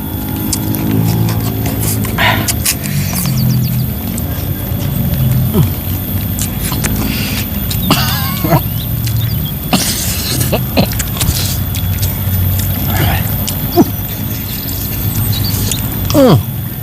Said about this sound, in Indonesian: Gede. Gede guys hujannya.